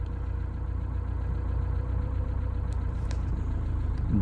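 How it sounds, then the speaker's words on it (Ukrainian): A Ford Scorpio 2.0i engine idles steadily while warming up, with a low, constant rumble and a faint high whine, nothing else standing out. "зараз чекаю, поки нагріється двигун."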